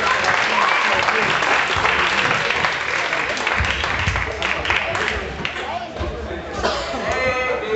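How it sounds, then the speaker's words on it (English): Crowd applause for two young boxers after a 60-pound main event bout, a dense wash of clapping and cheering filling the hall, with an announcer's voice talking over it. "One more round of applause for these two fine warriors."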